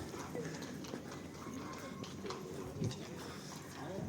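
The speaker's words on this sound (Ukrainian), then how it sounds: "О. Коні." Faint, irregular clip-clop of horse hooves on pavement mixed into busy outdoor street ambience with distant voices, in the town centre of Truskavets, Ukraine.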